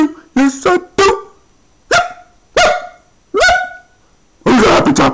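A big dog barks loudly and close in a series of single and doubled woofs, followed by a rapid burst at the end, with no talk during the barking.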